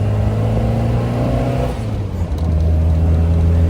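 Engine of a 1980 Fiat Spider 124 car runs close by with a deep, steady harmonic hum, dipping briefly in revs midway before settling back to a firm idle-to-cruise tone.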